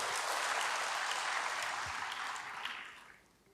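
A church congregation claps together in a dense, steady burst of applause that holds strong and then fades away toward the end, with no voices over it.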